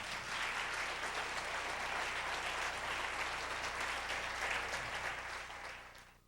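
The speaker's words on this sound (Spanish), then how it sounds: "Un aplauso al Señor esta noche." A church congregation applauds at an evening service, a dense, steady wash of clapping that holds at full strength and fades out near the end.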